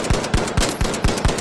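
The LH1 rifle firing in The Finals, six evenly spaced sharp shots in a steady rhythm, loud and close.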